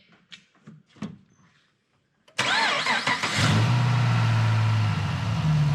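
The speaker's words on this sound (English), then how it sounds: "We're going to go for a cold idle start here" An engine cranks briefly and catches, roaring up loudly before settling into a steady, close idle with a constant low hum.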